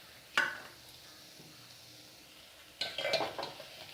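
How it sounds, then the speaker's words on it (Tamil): Oats and small potatoes are stirred in a pan, giving two bursts of scraping and clinking: a short one near the start, then a longer, busier stretch toward the end. Quiet, low background fills the gap between them. "சேர்த்து ஒருக்க நல்லா கிளறி விட்டுறலாம்"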